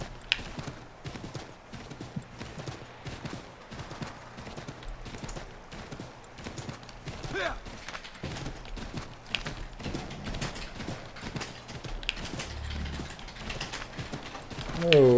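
Horse hooves clip-clop in a steady galloping rhythm throughout the Assassin's Creed III video game, with a brief whinny-like cry and a louder burst at the very end.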